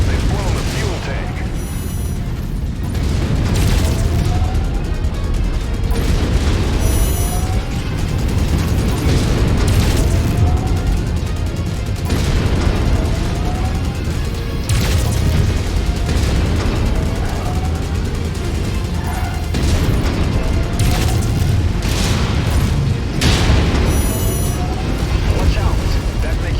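A fuel tank blowing up in MechWarrior 5 amid ongoing mech combat, with heavy booms, mechanical clanking and repeated weapon blasts under the loud battle noise, while a voice talks over it.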